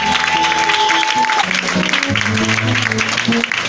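Church congregation clapping and cheering together in a worship service, a loud mixed crowd sound with voices calling out and sustained tones running underneath for several seconds.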